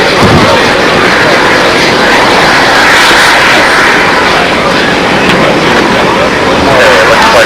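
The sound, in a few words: RC scale model Rafale jet aircraft flying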